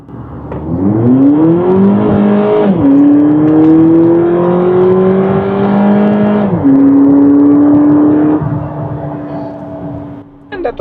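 A 2018 Volkswagen Polo GTI sprints hard from inside the cabin, the engine note climbing steeply through gears with two clear upshift drops, loud and close, before easing off near the end.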